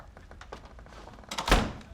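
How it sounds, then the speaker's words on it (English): A door swings shut with a single solid thunk near the end, following some soft movement noises in a quiet indoor office. "Close the door."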